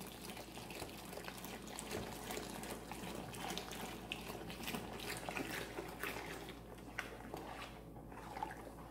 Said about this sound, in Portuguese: Agora eu vou pôr aqui mais 1 litro de água, temperatura ambiente da torneira.